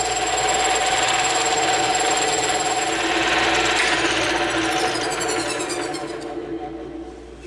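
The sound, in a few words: bandsaw cutting a circle from thick EVA foam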